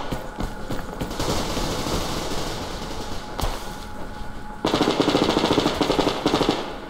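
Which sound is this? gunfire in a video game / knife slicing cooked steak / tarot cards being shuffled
gunfire in a video game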